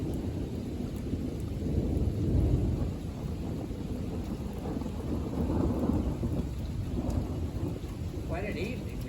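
A thunderstorm on a summer evening with steady heavy rain and rolling thunder, low rumbles swelling around the middle and again later, loud and continuous throughout.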